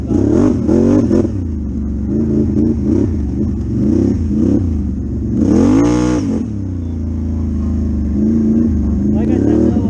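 Small riding vehicle's engine revving hard, loud and close, with a sharp surging burst midway over a steady running drone, and a person speaking over it at times.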